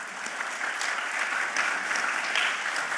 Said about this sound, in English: I'd like a little hand of applause for the people that are volunteers